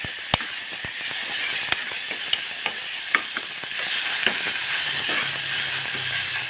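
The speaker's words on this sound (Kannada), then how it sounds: "ಇದು ಸ್ವಲ್ಪ ಹಸಿಮೆಣ್ಸಿಕಾಯಿ ಹಸಿ ವಾಸನೆ ಹೋಗೋವರೆಗೂ ಸ್ವಲ್ಪ ಫ್ರೈ ಮಾಡಿರಿ." Green chilli paste frying in a pan, a constant hissing sizzle with sharp spoon taps and scrapes at irregular intervals, close and without speech.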